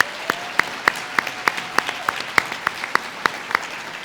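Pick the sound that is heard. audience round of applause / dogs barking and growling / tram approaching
audience round of applause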